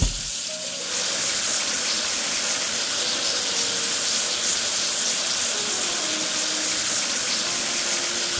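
Water sprays steadily over the dirty parts of a toy excavator, a loud, continuous hiss that starts after a brief moment and holds without pause, close and alone.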